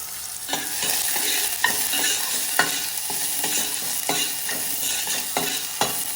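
Onion sizzles steadily in a brass pan, with regular scraping stirs of a spatula punctuating the continuous frying hiss close up; no one speaks.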